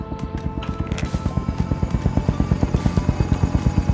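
Helicopter rotors in Call of Duty: Warzone, a steady rapid thumping that grows slightly louder and more distinct, with several aircraft overhead.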